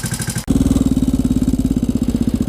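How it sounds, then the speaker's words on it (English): A 1996 Suzuki DR650 motorcycle engine fires up abruptly and settles into a loud, close, evenly thumping single-cylinder idle. "I'm pretty sure this bike seems most comfortable at about idle"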